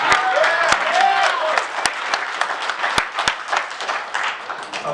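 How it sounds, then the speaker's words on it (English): Audience applause at a public meeting, a dense steady wash of clapping that rises loudly and then tapers, with a few sharp individual claps standing out. "Applause is good."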